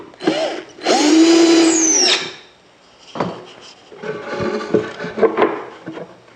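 Power drill driving screws into a wooden drawer during DIY woodworking, two long loud whirring bursts with pitch swells, then shorter grinding pulses, close up.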